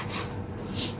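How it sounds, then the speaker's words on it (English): Fish being scrubbed with salt by hand while prepared for Afang soup, giving a close, quiet gritty rubbing in two short strokes, each a soft hiss of grains, with no voices. "please use your salt, give it a bit of scrub"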